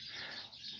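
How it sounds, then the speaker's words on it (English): Birds chirp and squabble outdoors on a cold day near a driveway where a radiator is being replaced in a 1991 Chevy Jimmy, a continuous hissy twittering that is fairly faint and has no talking over it. "I got like a bird fight going on out here"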